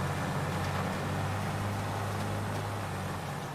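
Steady, heavy drone of a John Deere tractor engine pulling hard under full load while planting soybeans in Farming Simulator 22, loud and close with no break.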